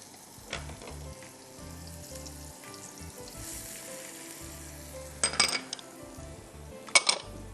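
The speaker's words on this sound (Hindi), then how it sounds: "अब हम क्या करेंगे, प्याज डालते हैं और साबुत गरम मसाला" Onion and whole garam masala (bay leaves, cinnamon stick and small green cardamom) frying in oil in a pot for a Hyderabadi pulao: a soft, steady sizzle close by with occasional metal clinks of a spoon against the pot.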